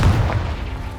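A Confringo spell blasts in Hogwarts Legacy, a single deep, heavy boom at the start that rumbles and fades away over about a second, heard alone.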